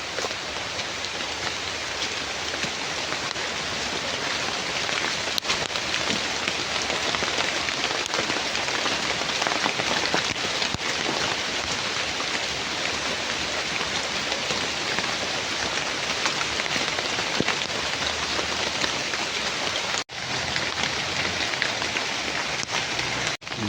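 Heavy rain pours steadily and loudly on surfaces outdoors, a dense continuous roar that holds unbroken for the whole stretch, with a brief dip near the end.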